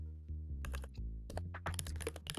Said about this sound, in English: Making typing mistakes.